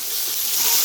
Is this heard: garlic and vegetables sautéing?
yes